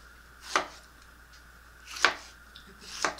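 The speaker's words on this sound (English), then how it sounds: "Cut the meat." Three sharp knife chops through steak on a board, spaced about a second or more apart, crisp and close with quiet between them.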